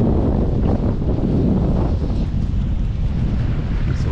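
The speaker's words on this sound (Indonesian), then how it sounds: "Angin kuat, hujan." Strong wind at sea on a small fishing boat in rain, a loud, continuous roaring rush buffeting the microphone, with no break and no talking.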